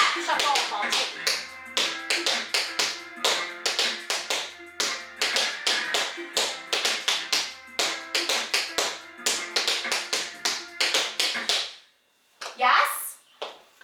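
Tap shoes beat out a waltz clog time step as a rapid, rhythmic series of crisp, close taps that repeats in phrases, then a short pause and one final scrape.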